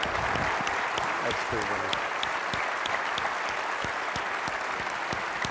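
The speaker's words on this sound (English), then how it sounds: "Applause for you. Applause for you." An audience at a defense forum in St. Louis applauds steadily with dense clapping throughout. Someone speaks briefly over the applause.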